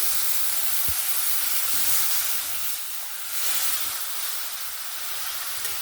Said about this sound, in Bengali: এবার আমি একটু সামান্য জল দিয়ে দেব।